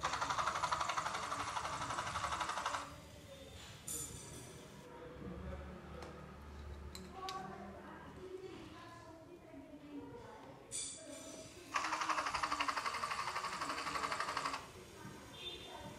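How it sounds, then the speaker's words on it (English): A small LEGO WeDo 2.0 motor on a helicopter rescue model raises and lowers the hook, giving two separate bursts of buzzing, sewing-machine-like whirring with quieter handling noise between them. "This motor is used to move rock up and down."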